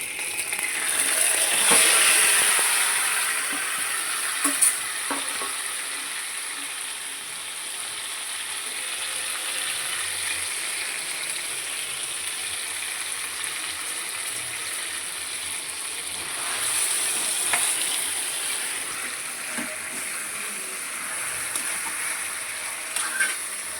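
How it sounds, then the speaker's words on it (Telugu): Marinated chicken pieces frying in hot oil, a continuous bubbling sizzle with occasional spatters and clinks, swelling briefly near the start and again toward the end. "ఆయిల్ మరిగిన తర్వాత మనం ఇందాక చికెన్ ఇలా నానబెట్టుకున్నాం కదండి, అన్నీ వేసుకొని అవి ఇందులో వేసేస్తున్నానండి."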